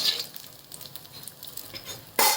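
Dried Bombay duck fish pieces roast in a pan with a soft, steady sizzle and faint scraping stirs, ending in a sudden louder burst of hissing near the close.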